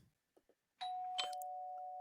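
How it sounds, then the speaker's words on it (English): A doorbell rings in a home: one bright chime tone sounds loud and sustained after a few faint taps, with no voices. "Is it a doorbell?"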